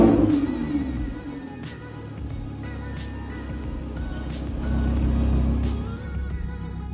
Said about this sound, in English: Here comes the lukewarm start because I've already had the car out today.